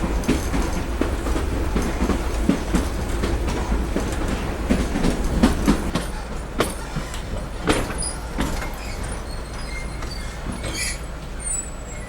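A narrow gauge passenger train runs on the Bilimora to Waghai line, its wheels clattering steadily over rail joints with a continuous low rumble and occasional sharper knocks, heard from on board with no talking.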